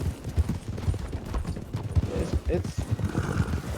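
A trained horse in a video game trots along, its hooves beating out a quick, steady clip-clop rhythm close by, with people talking over it.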